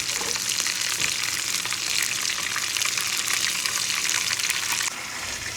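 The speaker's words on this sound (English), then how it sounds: "So we will start with the onion whilst we are stir frying it." Onion stir-fries in a pan alongside browning meatballs for homemade spaghetti and meatballs, giving a loud, continuous close-up sizzle with crackling spatters that eases slightly near the end.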